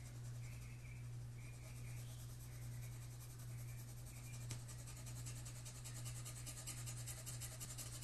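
An H graphite pencil rubs softly over paper while touching up a drawing: a faint, steady, continuous scratchy shading sound with a low background hum, no talking.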